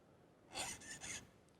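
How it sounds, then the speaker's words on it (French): A key being filed by hand to alter its bitting: three short rasping strokes in quick succession, close and fairly quiet, with no voices. "je mets quelques coups de lime pour modifier un tout petit peu la combinaison"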